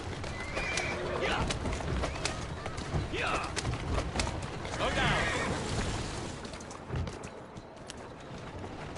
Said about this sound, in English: I like that he can drift with the horse carriages.